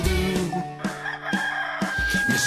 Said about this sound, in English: we all know who goes cock-a-doodle-doo.